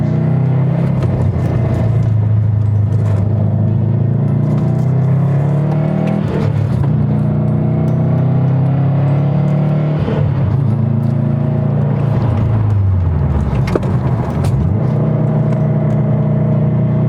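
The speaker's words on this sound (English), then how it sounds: "I'm going to push it a little bit harder than we have, and we'll see how the car reacts to it." A 2020 Subaru WRX STI fitted with track upgrades is pushed hard through corners, its engine loud and close, rising and falling through repeated revs and shifts with no talking.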